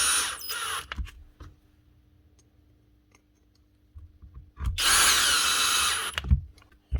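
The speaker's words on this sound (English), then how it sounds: "If you're using a cordless drill and you don't want to over tighten them, put it into screw mode and turn down your clutch." A cordless drill drives screws into the plastic handle body of a DeWalt DCF787 impact driver. Two loud, close whirring bursts are separated by a quiet pause with small clicks and handling knocks.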